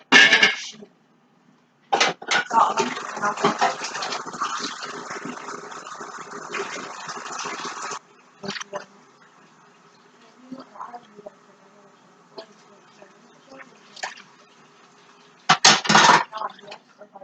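Water is poured into a kitchen pot to poach salmon: a clank of cookware, then a steady rushing pour lasting several seconds, followed by quieter clinks and a final louder burst of splashing near the end.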